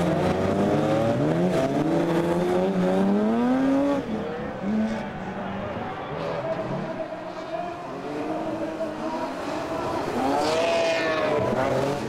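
Race car engines on the Trophée Andros 2006 ice track scream through rising and falling revs as the cars accelerate and lift through corners, loud and continuous.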